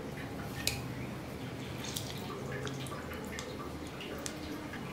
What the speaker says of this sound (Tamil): ஒரு 1/2 எலுமிச்சம்பழம் பிழிஞ்சுக்கிறேன்.